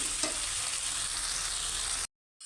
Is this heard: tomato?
yes